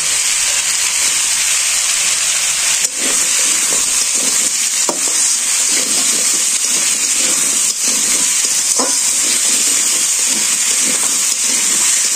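Potatoes fry in oil with salt and turmeric in a Bangladeshi village kitchen: a steady, loud sizzle runs throughout, broken by repeated scraping and knocking as the pieces are stirred.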